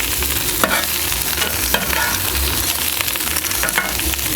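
Parboiled potatoes fry in goose fat in a pan, a loud continuous sizzle broken by a few scraping stirs, close up with no talking.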